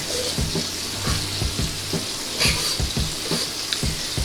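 Burgers sizzle on a griddle with a steady frying hiss, broken by repeated scraping knocks of a spatula as the patties are pushed around.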